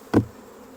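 A single short buzzing burst from honey bees as a frame is shaken and brushed during honey extraction, close and fairly loud, then quiet.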